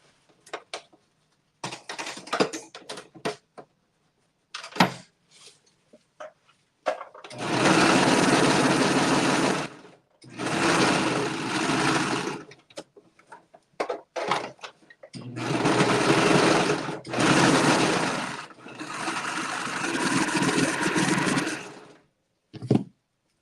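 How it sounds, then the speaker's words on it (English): A serger (overlock machine) runs in several close, loud bursts of a few seconds each while serging a fabric opening, with short handling noises and pauses between bursts. "let me serge this opening and then I'll finish this side"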